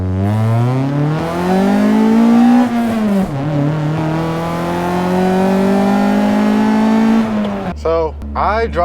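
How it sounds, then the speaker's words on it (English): A loud Honda fitted with a replaced exhaust and headers revs hard and close, its engine note climbing, dipping briefly, then holding high before cutting off into a short burst of lower idle. "I drive a very loud Honda. I just made it louder. I replaced the exhaust in the headers"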